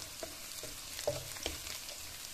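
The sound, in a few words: garlic and cumin sautéing in a pan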